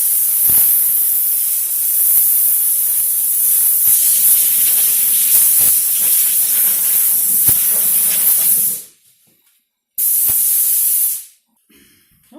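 Compressed air blows dust out of the cracks and crevices of a wheel being prepped for repainting, a loud steady close hiss for several seconds, then a short second burst after a pause.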